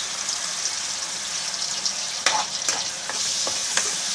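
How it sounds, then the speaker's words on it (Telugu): Onion paste frying in hot oil, a continuous bright sizzle up close with a few brief clanks of stirring near the end. "ఆయిల్లో బాగా మగ్గాలి ఆనియన్ పేస్ట్ అనేది."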